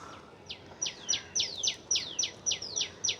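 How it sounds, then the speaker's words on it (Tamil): Sparrows chirp on a rooftop in a quick series of bright, sharp, descending calls repeating in an even rhythm, close and clear over a quiet background. "எப்போதுமே இந்த குருவிகள் வந்துடுவாங்க"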